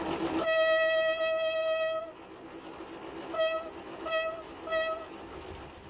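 A train horn sounds one long blast, then a few shorter toots, over a low rumble of rail traffic in Egypt.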